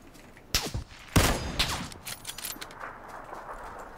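AK rifle fire in PUBG: two sharp, loud bursts of shots in quick succession, followed by scattered fainter clicks and rattles as the sound fades into a low background din.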